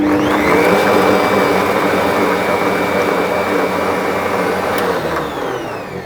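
An electric mixer with whisks beats cake batter with orange and lemon zest, a loud continuous whirring drone held steady close by, easing slightly toward the end.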